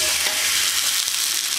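Fish fried in a pan in oil, a steady dense crackling sizzle with faint stirring scrapes throughout, loud and continuous with no voices.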